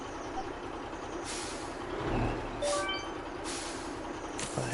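A truck air brake in Alaskan Road Truckers hisses several times in loud bursts of released air over a steady idling engine rumble, with no talk.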